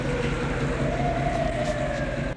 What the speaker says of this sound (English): Then when we can hear these sirens arriving